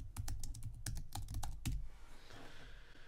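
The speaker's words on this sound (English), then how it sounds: "Put in my password. Hopefully, I typed that in right." Fingers tap out a password on a Mac computer keyboard, a quick close run of distinct clacking keystrokes that stops after about a second and a half, leaving quiet room tone.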